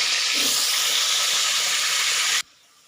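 Cauliflower sautés in hot oil, giving a loud, dense sizzling hiss that holds steady and then cuts off abruptly near the end.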